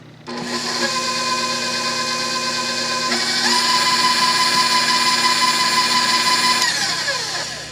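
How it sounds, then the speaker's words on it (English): A kitchen mixer spins dry bread ingredients with a loud, steady whirring drone that jumps to a higher pitch partway through, then winds down at the end, close by with no talk. "We are going to give this a quick spin just to mix up all the dry ingredients."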